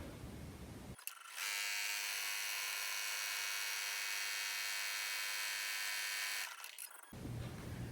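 An embroidery machine stitching the placement line for a contour mask in the hoop starts up and runs as one steady, close, high-pitched buzzing whir for about five seconds, then stops, with quiet room noise before and after.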